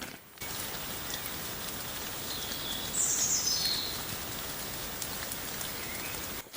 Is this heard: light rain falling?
yes